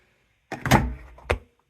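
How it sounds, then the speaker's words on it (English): A repaired washing machine's door is pushed shut, landing as a solid thunk followed by a second, shorter clunk less than a second later. Both are close and distinct against an otherwise quiet room. "you'll know by shutting the door"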